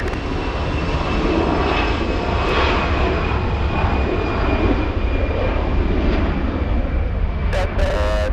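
A big airliner powers up for takeoff at LAX, a loud, sustained jet roar holding steady and close, with radio chatter over it and a short burst of static near the end.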